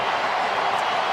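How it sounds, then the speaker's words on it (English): Football stadium crowd late in an NFL game, Bengals at Steelers, roaring as a dense continuous wash of noise at steady loudness with no clear breaks. "Now the crowd's really getting into it late here."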